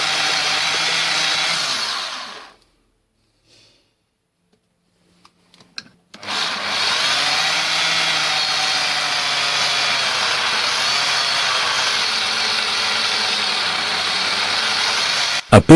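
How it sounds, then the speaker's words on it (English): A carbide-tipped drill bit widens holes in metal, a loud steady grinding whir that stops for a few seconds with a few small clicks, then resumes and runs continuously to the end. "I had bought these carbide tip drills. They are similar to masonry bits but ground to drill metal."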